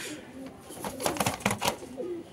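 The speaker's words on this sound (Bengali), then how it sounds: "আজকে ফরাদ ভাই মাত্র 2000 টাকা, একটা নর কবুতর" A male pigeon coos nearby in a few soft, throaty calls against a faint background hum.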